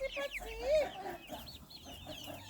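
Chickens and chicks in a farmyard cluck and peep softly, a few short bird calls rising over quiet outdoor background at moderate distance.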